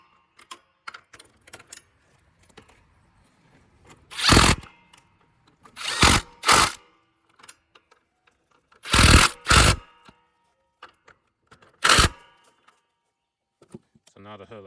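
Bolts are driven tight with a power tool while fitting a new A/C compressor on a Nissan: six short, loud whirring bursts, some in quick pairs, separated by near-silent pauses with faint handling clicks.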